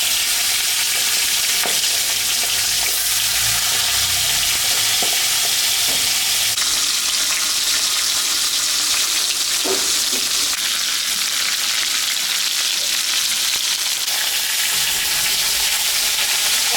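A rohu fish head, salted and dusted with turmeric, fries in hot oil with a steady broadband sizzle and crackle, joined now and then by stirring and scraping, close and continuous with no talk.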